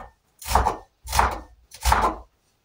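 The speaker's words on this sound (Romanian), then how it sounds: "Acum o să tăiem ceapa. Ceapa o să o tăiem solzișor. Tăiem toată ceapa solzișor." A knife chopping onion on a board, three distinct cuts about half a second each, evenly spaced and close, with no voices.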